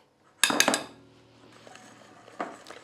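A spoon stirs a custard cream of egg yolks, sugar, corn starch and rice starch with orange and lemon zest in a pot, giving a quick cluster of bright metallic clinks, then a quieter scrape and one more clink.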